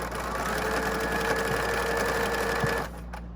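A sewing machine runs steadily as it stitches rows of a quilt block, a loud close mechanical whir that stops abruptly near the end, with no talking.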